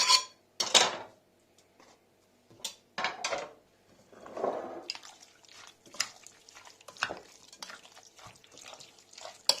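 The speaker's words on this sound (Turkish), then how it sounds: "Şimdi sosumuza karıştıracağız" Diced chicken stirred into a creamy curry sauce, with scattered wet clinks and scrapes of a spoon against the pan, short bursts separated by brief pauses, close and moderately loud with no talking.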